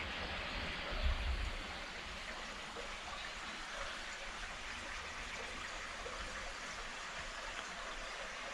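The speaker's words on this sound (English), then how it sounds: "I don't know whether you can hear me over this little stream" A small stream flows beside the Chesterfield Canal near Drakeholes, giving a steady, close, broadband rush of water with a brief low bump near the start and no talking.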